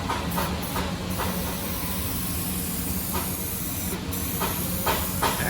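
Spray adhesive goes on generously along the edges during a Keene 151S cloth replacement, heard as a steady close hiss of aerosol spraying with a few short bursts and pauses.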